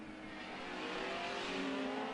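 Racing sidecar engines at the 1987 New Zealand sidecar Grand Prix, including a Yamaha TZ, rev high and steady at a distance, a faint buzzing whine rising slightly in pitch as they accelerate.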